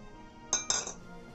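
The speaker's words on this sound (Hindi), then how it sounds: "फिर गाइस इसमें हम आइस डालेंगे" Two quick clinks of ice cubes dropping into a mixer jar while a mango milkshake is being made, a pair of sharp bright hits close together, then quiet.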